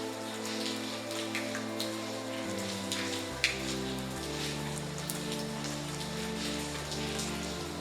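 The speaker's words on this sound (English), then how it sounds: "It's still raining." Steady rain patters in the Lucy Dreaming adventure game, a soft continuous hiss of drops under a low, shifting musical drone, with no talk.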